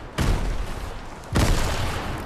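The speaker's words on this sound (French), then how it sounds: "oh, grenade!" Two heavy booming blasts from a grenade explosion in Fortnite, each a sudden loud broadband hit that decays into a rumbling tail, about a second apart.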